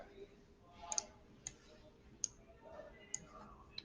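Quiet, sharp mouse clicks on an on-screen OK button, five or six isolated ticks spaced about half a second to a second apart against faint room noise.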